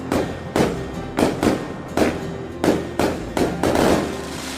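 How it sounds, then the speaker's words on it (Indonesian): Fireworks burst over a beachside resort in Anyer in a quick, regular series of about eight loud booms, each followed by a short crackling tail. "plus ini nih kembang api yang cantik banget"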